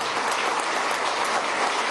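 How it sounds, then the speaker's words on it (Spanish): Bank of Venezuela workers are honored with loud, dense applause from a large crowd at an anniversary celebration, a continuous roar of clapping with no voices over it. "un aplauso a los trabajadores y a las trabajadoras del Banco de Venezuela"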